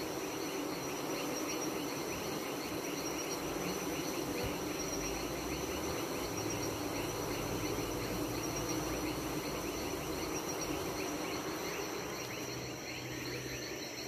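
Honeybees cluster on top of their hive, giving a steady, continuous drone of many wings that stays even and moderately quiet throughout, with no voices.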